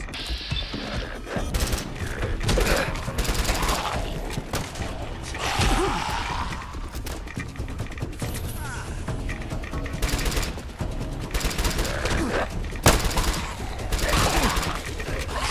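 Gunfire and weapon handling in the Fallout London video game, with repeated loud shots and mechanical clicks spread across the stretch and occasional quieter pauses between bursts.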